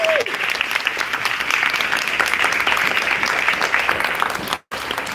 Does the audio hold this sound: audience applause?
yes